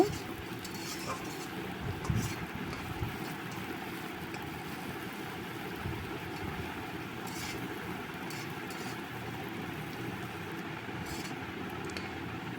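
Thinly sliced onions frying in oil give a soft, continuous sizzle, with occasional light clinks and stirring scrapes in the background.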